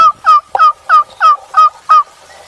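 Wild turkeys gobble in a late-season Missouri hunting setting, with seven loud, evenly spaced gobbles in steady rhythm and no talk.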